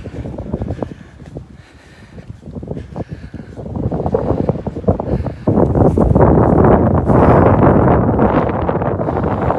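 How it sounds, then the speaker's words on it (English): Heavy wind at the Bright Angel Trailhead on the Grand Canyon rim buffets the microphone, a low roaring rumble that starts moderate and grows louder and more constant, with no voices. "as I'm sure you're hearing, Susan, it is very windy."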